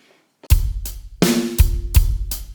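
A rock drum beat on a kit with an extra kick drum hit right after the snare on beat two, plus hi-hat, heard as a few heavy close hits about half a second apart, loud and with no talking.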